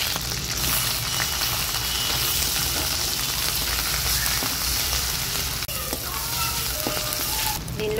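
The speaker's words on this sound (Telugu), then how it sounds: "ఇప్పుడు ముందుగానే మిక్సీ పట్టుకున్న ఉల్లిపాయ ముద్దని నూనెలో వేసుకోవాలండి" Onion paste fries in hot oil with cumin, making a loud, dense, continuous sizzle close by with faint stirring scrapes underneath.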